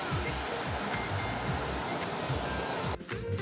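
A river in Arashiyama, Kyoto, near old traditional houses and a bridge, rushes in a dense, continuous wash of water noise, loud and steady throughout, with a brief dip near the end.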